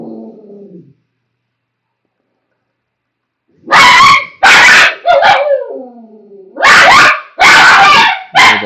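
A pet dog barks loudly and close by in clustered bursts of several sharp barks, with a drawn-out whine or howl between them and a short murmur of voice before.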